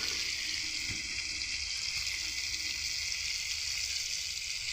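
Ground ginger paste fries on top of already fried tomatoes, giving a steady bright sizzle and hiss that stays even and fairly soft throughout, with no voices.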